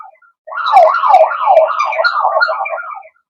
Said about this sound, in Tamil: இந்த மாரி அலாரம் அடிக்க ஆரம்பிக்கும்.